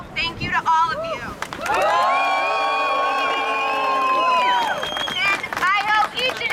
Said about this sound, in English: So one more round of applause for everyone who took the weekend to come, who made this possible.